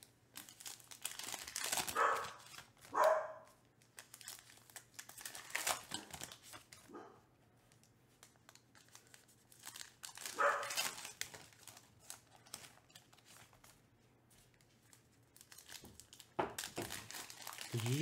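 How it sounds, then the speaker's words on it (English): 2024 Topps Allen & Ginter baseball hobby card packs crinkle and tear up close, while a dog barks a few times in short bursts in the background of a quiet room. "Why are you barking?"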